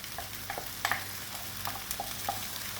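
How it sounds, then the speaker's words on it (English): Three unwhisked eggs stirred into fried rice with stir-fry oil over high heat, a steady close sizzle with light scraping and clicking of the stirring utensil. "I'm just going to stir them in while the rice is on a high heat."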